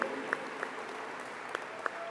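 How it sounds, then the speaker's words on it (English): Applause from the audience at the opening ceremonies of the JCC Maccabi Games, a dense, fairly faint wash of clapping from a large crowd with a few sharper claps standing out now and then. "And Assistant Director Josh Goldstein, who deserves special applause for going above and beyond the call of duty."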